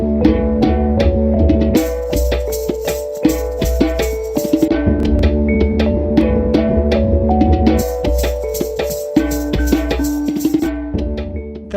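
An electronic composition plays continuously, with world percussion, a droning didgeridoo and a nyaanga layered into a dense, loud mix of rhythmic hits and sustained tones.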